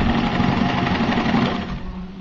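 A sewing machine stitches a pair of shorts, running in one steady continuous burst with a loud mechanical whir and rapid needle chatter, slowing slightly near the end.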